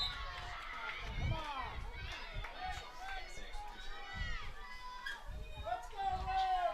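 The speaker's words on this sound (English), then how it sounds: "You hear the crowd getting pretty loud here, making some comments about the call." Spectators at a high school varsity field hockey game between New Canaan and Ridgefield, a mixed crowd of shouting and chattering voices rising and falling continuously, with footsteps and nearby talk.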